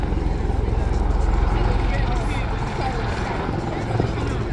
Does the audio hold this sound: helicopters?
yes